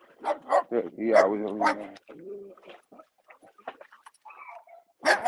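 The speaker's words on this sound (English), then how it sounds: "Is that they dog for real?" A dog barks in short bursts close by while people talk over and around it, the yelps mixed into a casual conversation.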